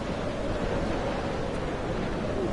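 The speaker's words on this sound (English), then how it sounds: "Jesus, the wind." Wind and crashing surf on the island coast in Dear Esther, a dense continuous roar of gusting air and breaking waves, steady and loud with no voices.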